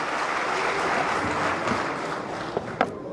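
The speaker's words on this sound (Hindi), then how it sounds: "इनके लिए जोरदार ताली बजा दीजिए दोनों के लिए" Audience applause at an Aam Aadmi Party swearing-in ceremony, a dense steady wash of clapping for the full three seconds with a few sharper claps near the end, and no speech.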